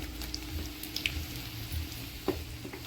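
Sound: garlic frying in oil

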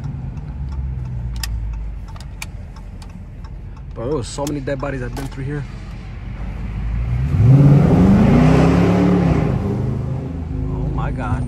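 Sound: Dodge Charger R/T car engine heard through open window

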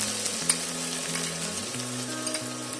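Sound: chopped onion frying with garlic in pan

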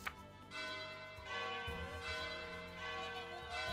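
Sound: bell ringing in video game The Game of Life 2

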